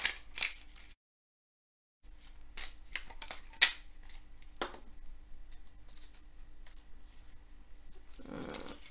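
Oracle cards shuffled and drawn from a deck: soft scattered snaps and flicks, faint and close, in a quiet room with a brief dead gap early on and a low rustle at the end.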